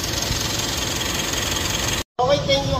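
A Mitsubishi Montero Sport third-generation engine idles in a repair shop after a transmission fluid change, a steady mid-low hum with light vibration, briefly cut by a sharp gap before resuming with talk over it.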